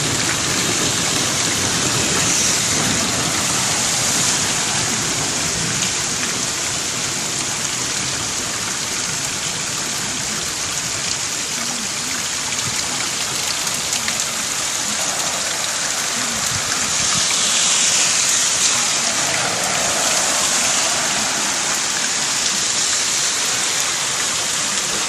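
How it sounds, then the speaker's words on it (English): Heavy rain pours steadily in a dense, unbroken roar, loud and close, lasting without pause and without voices. "It has been raining like this for the last hour."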